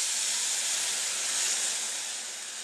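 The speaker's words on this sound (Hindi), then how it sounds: "तो फिर से थोड़ा तेल लगाएंगे, सूजी का घोल डाल देंगे" Semolina batter hisses steadily on a hot oiled pan, a bright, even sizzle that holds close and fairly loud before easing slightly toward the end.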